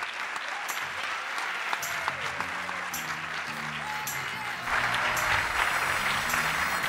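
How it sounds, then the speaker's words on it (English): An audience applauds steadily as a speaker is welcomed onto the stage, with walk-on music playing beneath the clapping and the applause swelling louder near the end. "please give a big round of applause and help me welcome to the stage Dr. Bernard Harris."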